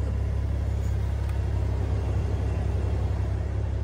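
Steady low road rumble from inside a 2023 Cadillac CT4-V Blackwing Watkins Glen IMSA edition on a downtown Naples test drive, a constant engine and tire drone with no talk.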